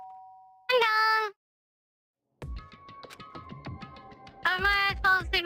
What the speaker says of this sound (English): I hear the doorbell. Again.